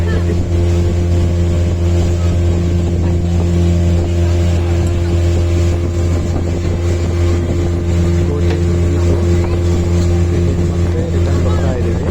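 Steady, loud motorboat engine drone with a low rumbling hum and wind buffeting the microphone, constant throughout.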